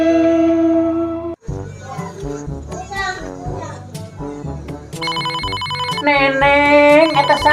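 A telephone rings loudly with a bright electronic ringtone melody over lively background sound, part of a Sundanese comedy sketch scene, the repeating tones growing busier toward the end.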